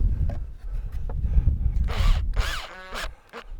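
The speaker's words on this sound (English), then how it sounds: "Right, drill and driver, plank," A drill driver spinning a screw into a wooden plank for a windbreak fence gate, short whirring bursts of the motor rising and stopping amid handling knocks, close by.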